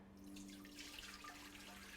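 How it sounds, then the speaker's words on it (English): Water is poured into a container around a glass Klein bottle, a faint steady splashing trickle with a low mains hum beneath it. "I'm going to pour some water around it"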